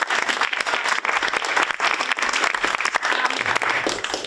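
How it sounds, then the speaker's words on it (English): Loud, close applause from an audience after a school theatre production, dense rapid clapping sustained for several seconds with no talk over it. "Can we just get another round of applause?"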